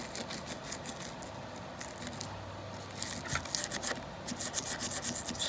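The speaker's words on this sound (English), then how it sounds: "Unless you got a little Dremel, which I do." A small Dremel rotary tool grinds and scrubs at Chevy/GMC TBI throttle body parts, giving a steady, close, raspy scouring noise with brief louder scraping bursts toward the end.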